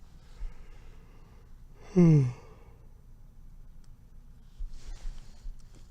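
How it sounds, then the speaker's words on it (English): A single breathy yawn rises and falls over a low steady background hum, with faint rustling before and after. "Sorry, I'm yawning"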